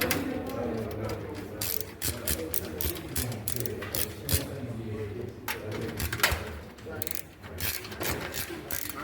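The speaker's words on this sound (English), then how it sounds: "Now we tighten the mounting screws." Mounting screws on internal computer hardware components being tightened: rapid ratcheting clicks in bursts, close and fairly loud, over a low murmur of background sound with no clear speech.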